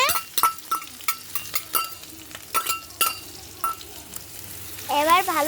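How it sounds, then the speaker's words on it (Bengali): Chilli, onion and ginger paste fries in oil in a wok under a soft sizzle, while a utensil scrapes and taps the pan in quick rhythmic strokes; a voice briefly sounds near the end. "এবার লঙ্কা, পেঁয়াজ, আদা বাটা দিয়ে দিয়েছে।"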